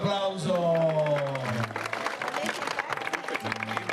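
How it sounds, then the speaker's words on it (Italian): Audience applause breaks out after a voice at the start, a short burst of scattered clapping under lingering talk, with speech resuming briefly near the end. "Un bel applauso."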